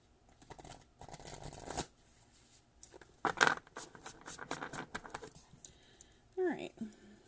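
Tarot cards are shuffled by hand in a quiet room, giving soft riffling and rapid pattering flicks in short bursts, with a pause in between and a light scrape near the end.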